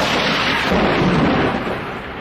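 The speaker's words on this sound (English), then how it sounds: "Lightning strikes a house." Thunder from lightning striking a house during a storm, a loud sustained rumble with broad low roar and rain-like hiss, fading slightly toward the end.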